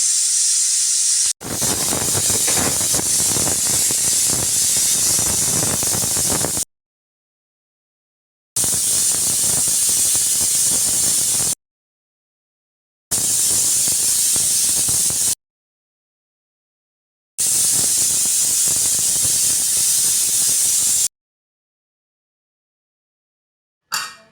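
Loud, continuous hissing of steam bursting from a pressure cooker cooking toor dal, coming in several long blasts separated by brief silences.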